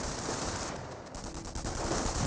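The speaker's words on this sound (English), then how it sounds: "MP40 Volks trying to engage these riflemen. Some grenades are being thrown." Submachine gun bursts from MP40-armed Volksgrenadiers in Company of Heroes, dense rattling gunfire trading with rifles, with grenades thrown during a World War II battle, continuous and busy but somewhat distant in the mix.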